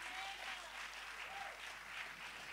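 A church congregation applauds in a continuous, moderately distant wash of clapping that swells and eases slightly over a few seconds, with no voices standing out.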